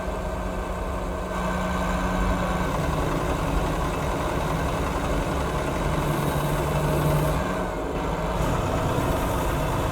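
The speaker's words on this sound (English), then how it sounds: "My engine doesn't sound good." A truck engine idles and runs steadily in American Truck Simulator, a low, even rumble held close and constant for the whole stretch, with no voices over it.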